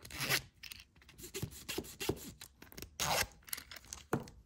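Zipper on blind bag toy packaging being pulled open, heard as a series of quick raspy scrapes and crinkles, close and crisp, with no talking.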